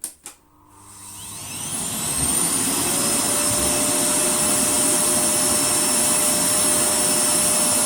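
A Hoover Sonix bagless cylinder vacuum cleaner starts after a couple of clunks. Its motor whines up to a loud, steady roar that holds to the end.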